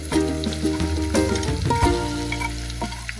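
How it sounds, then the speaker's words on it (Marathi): Finely chopped onion added to garlic frying in a pan over a village wood-fired stove, a steady close sizzle with stirring scrapes and a hum underneath. "आता आपण बारीक केलेला त्यामध्ये कांदा घालणार आहोत"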